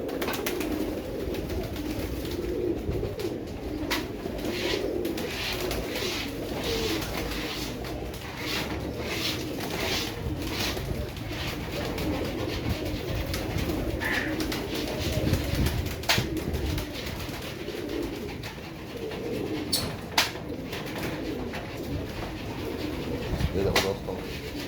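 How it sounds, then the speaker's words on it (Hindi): Pigeons in a loft, including blue-eyed and white-eyed birds, coo repeatedly at close range amid continuous rustling and flock noise, with occasional sharp clicks and a person speaking in the background. "आज ये बाकी कबूतर भी आएंगे सब।"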